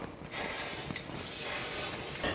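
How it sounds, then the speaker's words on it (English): A light spray of oil misted from a spray bottle onto special wooden cake molds in a kitchen, a close continuous hissing burst lasting about two seconds with brief interruptions. "So I'm giving it a light spray of oil."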